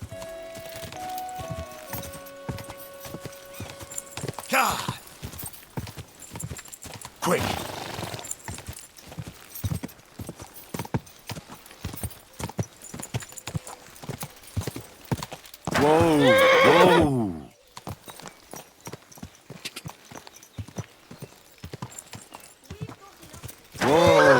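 A horse in Kingdom Come: Deliverance 2, steady rhythmic clip-clopping hooves throughout, broken by a couple of loud whinnying neighs partway and at the end, with a voice speaking briefly.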